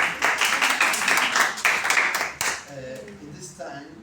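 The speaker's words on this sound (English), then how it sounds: "Another applause for Gabriel again" Audience clapping for a presenter after a group oral exam talk, a steady burst of applause from a small crowd that fades out, with voices talking over the last part.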